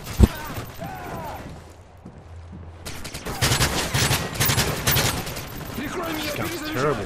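Rapid bursts of automatic gunfire crackle in a Modern Warfare 3 multiplayer match, dense and sustained through the second half after a quieter stretch, with faint voices in the game mixed underneath.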